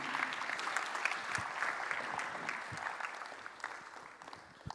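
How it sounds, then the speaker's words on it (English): Audience clapping at an annual conference, a dense steady round of applause from a crowd that holds even and then tapers slightly at the end. "let's clap for him."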